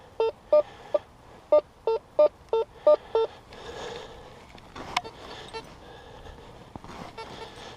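A run of about eight short electronic beeps from a Makro metal detector in quick rhythm, clear and close, followed by a soft rustling hiss of handling noise.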